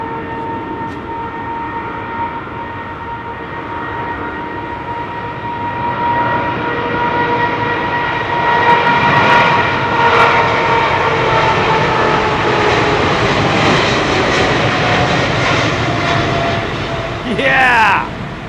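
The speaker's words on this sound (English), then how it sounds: "Wow. Big aircraft." A large aircraft passes at London Heathrow Airport in wet weather, its broad engine roar with steady whining tones swelling and holding loud for many seconds. People talk over it.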